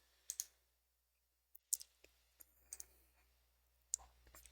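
A computer mouse clicks sharply and irregularly in a quiet room, with single clicks and quick pairs spread unevenly over a few seconds, close to the microphone.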